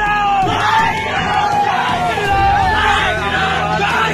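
A loud crowd of villagers chants the Vande Mataram slogan at the India–Bangladesh border beside BSF personnel, their massed voices yelling continuously and filling the whole stretch.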